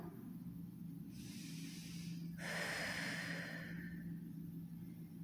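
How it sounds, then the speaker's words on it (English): Slow, deep breaths during a yoga twist: a long inhale and a fuller exhale hiss close to the microphone, steady and calm over a low background hum. "deep breaths in and out."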